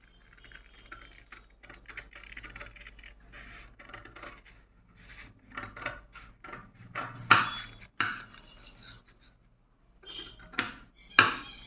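Scissors cutting out a paper mask pattern along its outline, a scattered run of soft snips and rustles that swell into sharper, louder cuts near the end.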